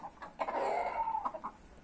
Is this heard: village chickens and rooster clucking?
yes